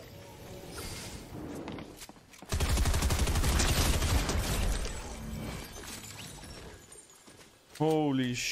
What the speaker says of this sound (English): The shotgun is crazy, dude. I'm just two-tapping everybody.